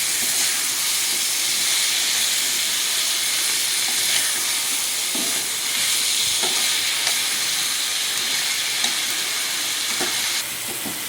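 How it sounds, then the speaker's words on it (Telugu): Four tomatoes go into a hot pan and sizzle with a steady, loud, broad hiss, while faint stirring clicks and small pops come through now and then until the frying noise drops off at the very end. "ఇప్పుడు టమాటాలు వేస్తున్నాను. ఒక 4 టమాటాలు వేస్తున్నానండి."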